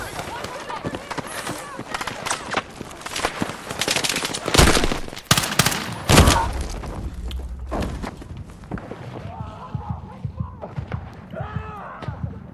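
Rapid rifle fire from a Battlefield 6 match, dense bursts of shots with loud cracks around the middle, layered with game effects and footsteps while someone talks over it.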